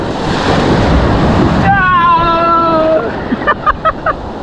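Ocean surf breaking over a sandbar off Galveston during wade fishing: a steady loud roar of waves and wind for the first couple of seconds, then thinner washing water with a few sharp splashes.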